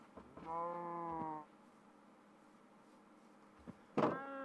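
Cows mooing in the video game Minecraft, two drawn-out tonal moos about a second long with a short silence between them, then a sharper moo starting at the end, fairly close over quiet background.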